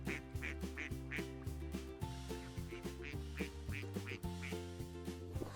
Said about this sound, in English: Ducks paddle together across the river.